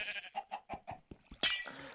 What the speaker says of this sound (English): Sheep called Fluffy